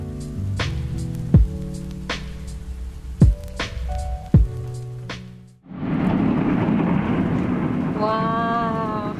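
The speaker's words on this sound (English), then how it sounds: "Thunderstorms are the best." Heavy rain from a thunderstorm pours in as a steady, close wash, following a stretch of plucked, music-like tones; a rising and falling voice-like warble sounds near the end.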